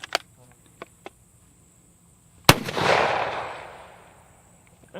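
A carbine rifle fired once outdoors, a single sharp close crack followed by a long rolling echo that fades over a couple of seconds, with a few faint clicks and handling sounds before the shot.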